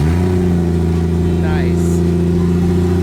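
Toyota Supra with a 2JZ engine fitted with a turbo kit, running steadily with a loud low drone and a brief rev partway through, while people talk over it.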